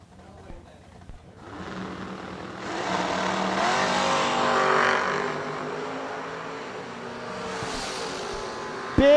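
Drag race cars, a white 1986 Cutlass and a Roadster, launching down the track at World Wide Technology Raceway: a rising engine roar swelling in after a quiet start, sustained revving, then a sharp burst at the end.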